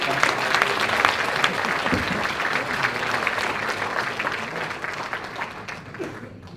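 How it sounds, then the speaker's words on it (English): A live debate audience breaks into applause: many hands clapping in a thick, continuous roar that stays strong, then gradually thins and tapers off toward the end. "Can we give him a round of applause as well, please?"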